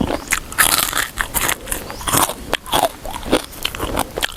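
Loud, close crunching and biting of shellfish, irregular crackly chews repeating steadily with wet mouth sounds, no talking.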